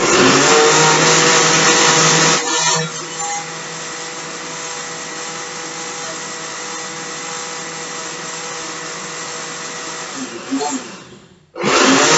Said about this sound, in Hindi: इसका मैं कवर लगाती हूँ और इसको ब्लेंडर को चला देती हूँ